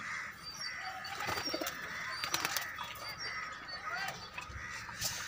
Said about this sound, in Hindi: देख रहे भाई सभी कबूतर मेरे रोटी खा रहे हैं।